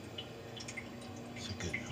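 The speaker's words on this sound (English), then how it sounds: "You hear it draining." A water fountain drains after being unclogged, giving a faint, uneven trickle with scattered small drips and gurgles over a low steady hum.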